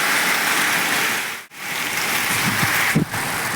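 Monsoon rain pours down in a dense, steady hiss, close and continuous, with a brief dip in the middle and a few faint low knocks near the end.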